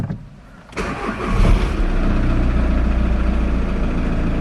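A Skoda Octavia vRS with a suspected turbo fault cranks and catches about three-quarters of a second in, then settles into a loud, steady idle with a slight rev, close by and with no talk.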